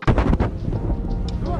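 Beirut explosion blast heard as a sudden heavy boom followed by rumbling, crackling debris and a rolling low roar that lingers and fades.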